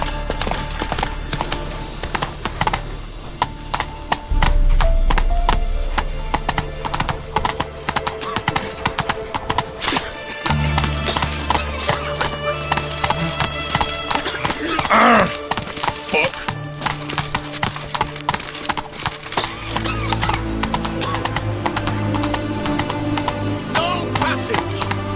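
Horse hooves clip-clop at a gallop in The Witcher 3 video game, steady rhythmic thuds over game music and ambience, with a brief whinny and a voice speaking.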